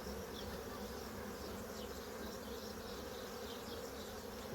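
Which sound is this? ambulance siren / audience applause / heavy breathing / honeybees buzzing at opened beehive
honeybees buzzing at opened beehive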